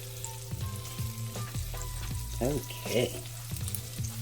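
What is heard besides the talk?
meat searing and sizzling in a pan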